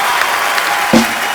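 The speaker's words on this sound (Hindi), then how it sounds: "तो जोरदार तालियों से स्वागत कीजिए सुपर डांसर्स के सुपरस्टार मासूम और" Studio audience applause on a comedy show stage as dancers are welcomed, a steady broadband wash of clapping at moderate level with one brief louder burst near the end.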